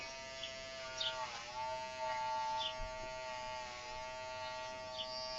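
Electric hair clippers hum at close range with a steady, bright buzz while trimming the back of a boy's hair, the pitch shifting slightly as the blade moves; no talking.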